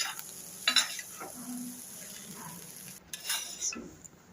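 Cluster bean usili, a Tamil dish of crumbled lentil with chopped cluster beans, is stirred in a pan as it simmers: a few soft scrapes and clinks of a spoon over a low, steady sizzle, with no talking.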